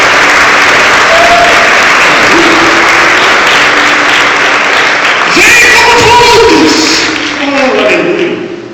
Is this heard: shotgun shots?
no